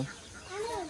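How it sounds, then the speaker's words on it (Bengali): A chicken clucks in a rural village farmyard in Bhola, Bangladesh: a short, nearby call over light outdoor ambience. "এদিকে মুরগি ডাকছে"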